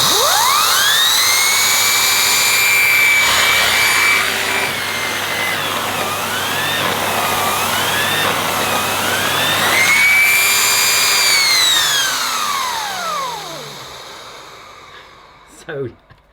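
A Numatic Henry HVA 160-11 vacuum cleaner running with its small nozzle gives a loud, close, continuous whine whose pitch rises, wavers and falls as airflow changes, then cuts off into a few clicks.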